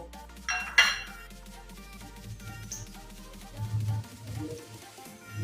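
Spoon scraping and clinking against a metal mutton biryani pot while oil is skimmed into a bowl, a sharp clink early followed by softer scrapes and taps close by.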